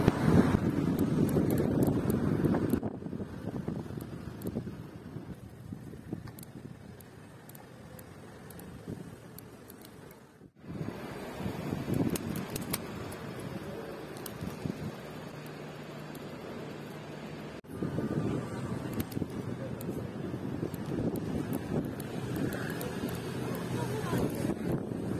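Wind buffets the microphone continuously while cycling from Italy into France, a steady rushing roar with a few abrupt shifts in level.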